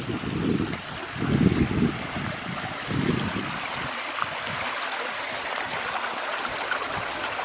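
Water running steadily through an old mill race, a broad rushing wash, fuller and louder during the first three seconds and then settling into a softer, even flow, with no voices.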